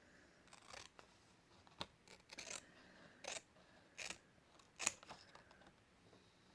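Scissors cut around the transparent border of a tarot card with a series of quiet, crisp snips in an irregular rhythm, recorded close and with no one speaking.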